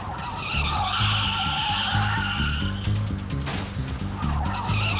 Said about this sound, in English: this car was reported spinning out of control with no one behind the wheel